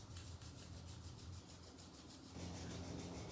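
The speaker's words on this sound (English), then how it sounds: "we'll start rubbing our hands together, creating some heat in the palms" Palms rub together in a chair yoga session, a soft, close, quiet friction swishing in quick repeated strokes that grows slightly fuller near the end.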